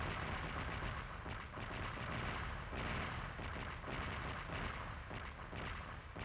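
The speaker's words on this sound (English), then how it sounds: "those explosions are real. It's like Tails fireworks." Explosions in the Sonic Adventure video game form a continuous, dense barrage of booming blasts and crackling bursts, steady and loud throughout with no speech.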